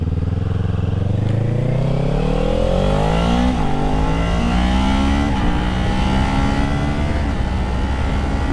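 A 2024 Kawasaki Ninja 500 or Yamaha R7 motorcycle pulls away on a near-freezing day, its engine note climbing steadily through the revs, loud and close with no talking.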